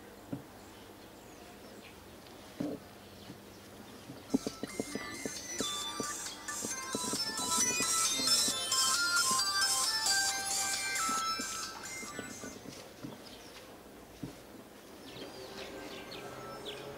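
A telephone rings in a staged Congolese theatre scene, a repeating electronic chirping trill that pulses on and off at moderate loudness for several seconds over faint room ambience.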